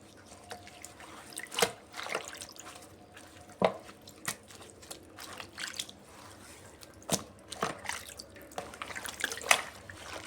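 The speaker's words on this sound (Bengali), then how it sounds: "ধুয়ে নিচ্ছি পাতাগুলোকে এইভাবে একটা একটা করে পাতা এপিট টিপিট করে পরিষ্কার করে ধুয়ে নিতে হবে" Pumpkin leaves washed one at a time in a bowl of water, soft sloshing and dripping in irregular bursts with quiet pauses between.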